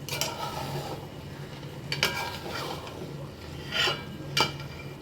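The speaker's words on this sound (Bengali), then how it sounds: "এবার ঢাকাটা খুলে একটু নাড়িয়ে দিচ্ছি" Food stirred in a pan on a switched-off gas stove just after the lid comes off, with steady scraping and a couple of sharp metallic knocks of spoon or lid against the pan, close by.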